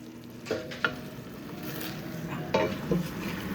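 One-pot meatball spaghetti stirred in a steaming pot, a few soft scrapes and clinks of a utensil over a low simmering hiss.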